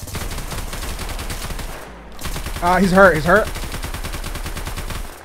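A quick burst of gunshots fires in the survival video game DayZ, loud and sharp, while voices talk over the game sound. A brief pause comes just before a loud, rapid flurry near the middle.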